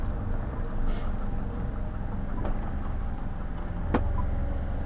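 A Subaru Forester GT's engine idles with a steady low rumble, joined by a couple of brief clicks and a faint whine.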